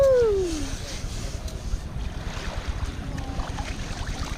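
Ocean waves wash faintly up onto a beach under a low wash of wind noise, and a brief voiced exclamation is heard at the very start.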